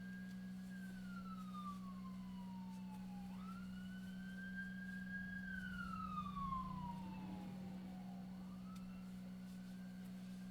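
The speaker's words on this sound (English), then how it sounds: "We got some sirens going on." Distant emergency vehicle sirens wail outside, rising and falling in long sweeps over a steady low electrical hum, faint but clear with no one speaking.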